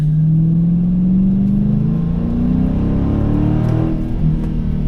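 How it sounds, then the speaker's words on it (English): A deep, throaty 2019 Dodge Challenger R/T Scat Pack exhaust drones loudly, its pitch climbing smoothly as the engine revs up and then settling back. "I will cut to some sweet exhaust note"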